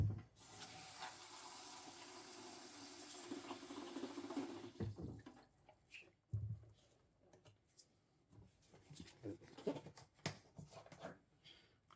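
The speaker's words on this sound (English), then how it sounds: "So all we do is fill up with water." Tap water runs steadily into a fountain pen being filled at a sink, a continuous splashing rush that stops abruptly, followed by faint clicks and handling noises.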